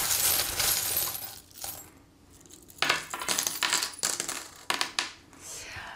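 Fortune-telling charms cast and clinking together, bright metallic jingles and rattles in several bursts, close and fairly loud with no talk over them.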